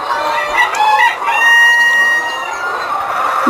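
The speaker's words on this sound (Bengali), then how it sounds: "মুরগিগুলি এখন ডিম পাড়তেছে" Layer hens on a poultry farm during egg laying, close and loud, with several overlapping clucks and drawn-out cackling calls and no talk.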